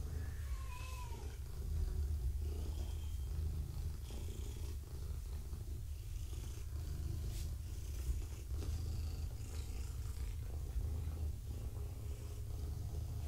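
A domestic cat purrs steadily and close by while being petted, a continuous low rumbling hum, with a few brief high meows breaking through near the start.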